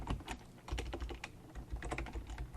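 Java code is typed on a computer keyboard in quick, uneven bursts of close, crisp key clicks, heard alone with no voices.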